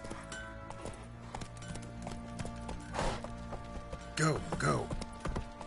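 Roach, Geralt's horse in The Witcher 3, clops along in a rhythmic series of hoofbeats, fairly close, under game music, while a voice speaks briefly and a horse snorts or neighs.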